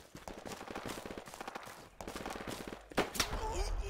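Video game gunfire on a Project Reality match in a Fools Road tournament, a steady run of rapid shots with a sharper sniper crack near the end, mixed with game noise and faint voices in the background.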